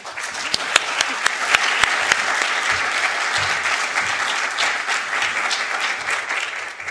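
A seminar audience applauds steadily to welcome a speaker, dense sustained clapping from a large crowd with a few sharp nearby claps standing out, lasting throughout at an even level.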